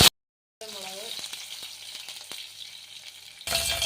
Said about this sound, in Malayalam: അതിലേക്ക് നമുക്ക് കുറച്ച് കടുക് ഇട്ട് കൊടുക്കാം ഒരു കാൽ ടീസ്പൂൺ കടുക് ഒരു ചെറിയ കഷ്ണം ഇഞ്ചി കുറച്ച് കറിവേപ്പില